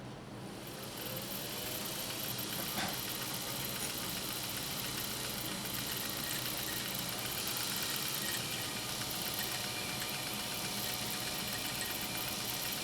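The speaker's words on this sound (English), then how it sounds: "let's finish winding this bobbin and then we'll jump into some more sewing" A Japanese clone sewing machine rated at 1.0 amp runs steadily while winding a bobbin, giving a continuous, even motor whir with a soft high hiss throughout and no talking.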